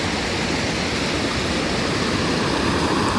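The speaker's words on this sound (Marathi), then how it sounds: "तुम्हाला पाण्याचा आवाज पण येत असणं" Water running steadily along a canal on a green hillside, a continuous broadband rush with no breaks, fairly loud and close, with no voices over it.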